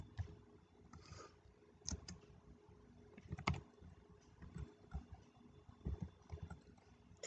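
Quiet, irregular keystrokes on a computer keyboard as code is typed, soft scattered clicks and small bursts with pauses between, close and faint, no talking.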